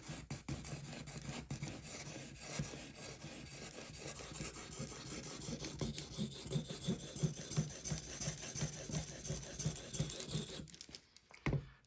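A Cold Steel 4-Max Scout knife blade is steadily stroked across an Edge Pro Apex sharpening stone, producing continuous close rasping scrapes in a repeated back-and-forth rhythm. The strokes stop abruptly near the end.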